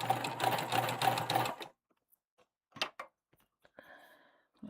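A sewing machine stitches a tote bag seam in a fast, steady run of needle strokes for about a second and a half, then stops, leaving a few faint clicks and handling noises.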